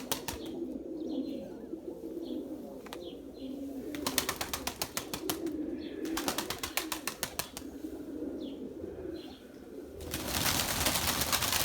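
Pigeons at an outdoor loft in Menemen, İzmir coo softly while bursts of rapid wing flapping clatter in several clusters, ending in a louder sustained flurry of wings.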